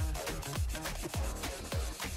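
A knife blade being sanded by hand with 120-grit abrasive during restoration: quiet, rhythmic back-and-forth rasping strokes, about seven in quick succession, close up with no talking.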